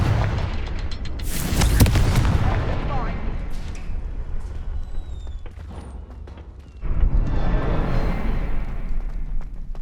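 A Confringo fire spell from Hogwarts Legacy bursts in sharp, loud explosive booms, first a bright crack followed by rumbling, then a second blast swelling later, with a voice briefly present.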